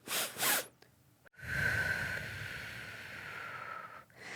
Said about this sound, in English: you just breathe in through your nose twice and then out through your mouth